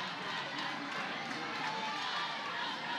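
Packed crowd of fans in a new softball stadium during the first inning of a college game, giving a steady, loud, broadband roar of chatter and noise with no clear breaks.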